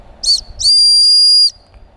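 A Tesla Cyberwhistle blown twice at close range, a short sharp shrill blast followed by a longer, steady, piercing tone of nearly a second that then cuts off abruptly.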